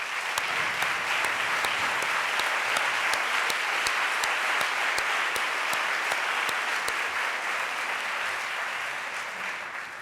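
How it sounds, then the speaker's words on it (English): A full audience applauds the team from Cumberland, named among urban school district finalists for a prize, with steady dense clapping that holds for the whole stretch and fades slightly near the end. "I'd like that team from Cumberland to please stand up and give them a round of applause"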